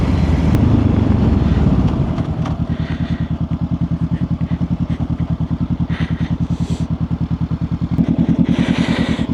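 A motorcycle decelerates to a stop at the roadside, its loud engine roar fading within a couple of seconds into a close, steady, rhythmic idle thump that keeps running, with a brief rise in revs near the end.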